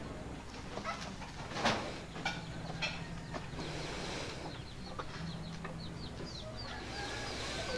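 Chickens cluck near a cage under construction. A few short calls stand out, one sharp and prominent early on, over a steady background of soft clucking and ambient noise.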